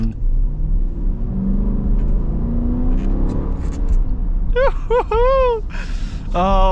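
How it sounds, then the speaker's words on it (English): A 2021 Dodge Durango R/T engine with stock exhaust rumbles steadily at idle, then revs sharply several times in quick bursts, loud and close. "It is it sounds amazing for stock exhaust, first of all."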